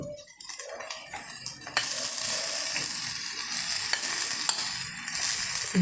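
Ground spice powder frying and being stirred in a hot pan while making podi mas, with a steady close sizzle, scraping and the clink of a utensil against the pan, louder from about two seconds in, with no talking.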